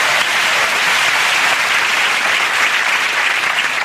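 A television studio audience gives a loud, continuous round of applause, a dense and even crowd clapping with no talk over it.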